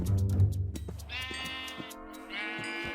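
Sheep in the Minecraft video game bleat in several clear, wavering cries, close and fairly loud, with a low rumble and clicks underneath at the start.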